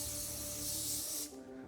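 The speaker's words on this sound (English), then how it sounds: "first we're gonna spray the bottom of this." A steady hiss of spray from a can of cooking oil into an air fryer basket, lasting over a second before it cuts off, close and loud.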